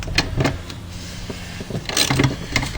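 Short high squeaks repeat a few times close up from rusty self-locking nuts on a Ford brake booster, each a brief metallic chirp with small mechanical noises between them.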